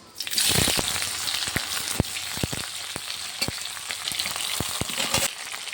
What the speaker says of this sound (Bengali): কচুরমুখী আর পেঁয়াজটা এবার ভালো করে ভেজে নেবো